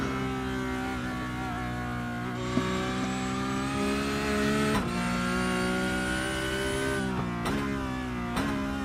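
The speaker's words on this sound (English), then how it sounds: "I'm also downshifting like as early as possible." Porsche Cup race car in the iRacing sim at the Nürburgring, engine note held steady then dropping in pitch through several quick downshifts, loud and close throughout.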